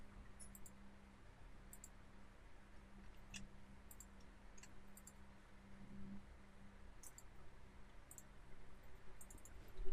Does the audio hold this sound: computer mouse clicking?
yes